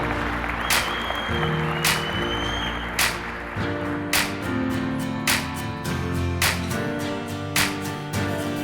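Applause from an audience at a film premiere, steady clapping with sharp repeated bursts standing out over a continuous crowd wash and background music.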